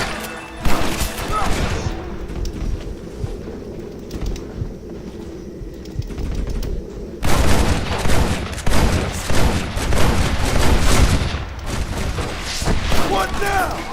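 A shootout in the video game Red Dead Redemption, with dense bursts of rapid gunfire and booms, a quieter stretch, then another heavy volley, while voices shout over the shooting.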